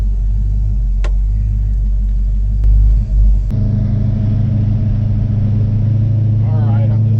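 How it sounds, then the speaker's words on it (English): A 1968 Dodge Charger engine drones loudly while driving to warm up, a steady low rumble with a brief surge and shift partway, then a deeper, fuller tone continuing, with a faint voice briefly heard. "I'm just driving around trying to get it warm up to operating temperature"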